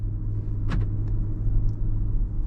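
Steady low road rumble and engine drone fill the cabin of a 2024 Ford Ranger XL STX with a 2.3-liter EcoBoost while driving, fairly subdued, with a brief faint click or squeak partway through and no talking.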